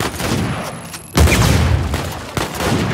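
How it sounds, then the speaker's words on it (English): Grenades explode in a firefight in Uncharted 4, with a heavy, booming blast that cuts through background gunfire, followed a moment later by a second, lighter burst. "Can we not with the fucking grenades"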